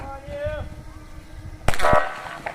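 Start horn for a girls' 13–14 mass-start 4 km ski race in Aldan, sounding as a sudden short loud blast partway through, with background crowd murmur and a whistle-like tone before it.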